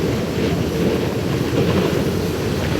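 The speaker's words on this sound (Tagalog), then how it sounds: "Lakas ng hangin." Strong wind roaring steadily into the microphone, a loud continuous rumbling buffet with no break.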